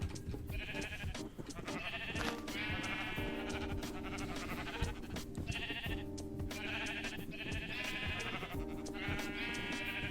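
Sheep in the Minecraft 1.19.2 video game bleat repeatedly in short wavering calls, fairly close, over steady background tones, with no talking.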